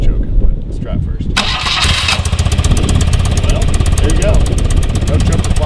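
A 1982 BMW R65LS motorcycle engine cold-starts without choke, a brief starter crank catching into a loud, steady, rapid idle close by, with a voice speaking over it.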